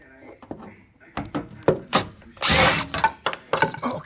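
A power drill drills out fasteners on a partition inside a Ram ProMaster van build, a brief loud whirring burst among knocks and thunks of tools on metal and wood, with people talking nearby.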